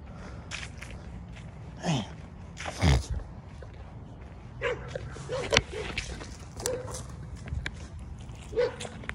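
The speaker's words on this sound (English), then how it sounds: "That's a fucking dog off the fucking leash, dog." An unleashed dog barks and yips in a few short, sharp bursts at a moderate distance, separated by quieter stretches with footsteps and faint background noise.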